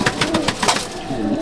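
Competition pigeons in a loft at Nepalgunj coo in quick pulsing throaty bursts at close range, a short run of soft rhythmic murmurs.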